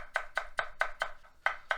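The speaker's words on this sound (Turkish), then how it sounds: "Yemeğin en sonunda maydanoz kullanacağım. Onu kıyacağım." Rapid knife chops chopping parsley on a cutting board, about eight sharp taps in steady rhythm, close and clear with no talking.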